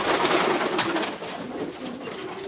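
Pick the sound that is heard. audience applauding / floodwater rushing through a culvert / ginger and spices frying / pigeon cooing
pigeon cooing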